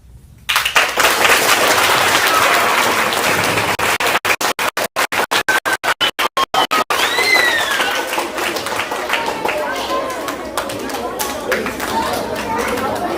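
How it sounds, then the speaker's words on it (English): An audience at an elementary school speech contest applauds loudly and continuously, with crowd chatter mixed in. The clapping cuts out in rapid dropouts partway through, then resumes and slowly fades. "let's give them all a round of applause."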